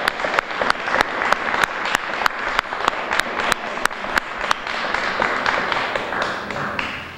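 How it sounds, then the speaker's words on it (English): An audience at an Earth Day award ceremony in a statehouse applauds steadily, with a few loud, sharp claps close to the microphone standing out in an even rhythm over the crowd. "big round of applause for Greg."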